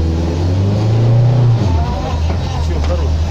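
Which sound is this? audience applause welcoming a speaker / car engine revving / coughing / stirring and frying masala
car engine revving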